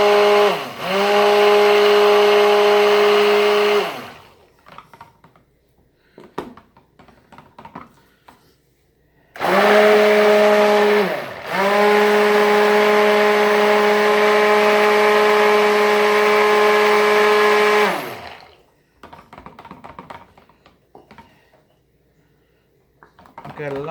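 A worn stick blender, nearing the end of its life, mixes a batch of raspberry soap, its motor whining loudly in two long bursts with a pause between them and some light clatter in the gaps.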